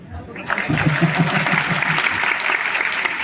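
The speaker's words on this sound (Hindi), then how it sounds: "तालियां दीजिए बेटे को कम से कम" An audience at a Nanda Devi Raj Jat community event in Chandigarh breaks into applause that swells quickly and holds as a dense, close clapping, with a voice speaking briefly at the start.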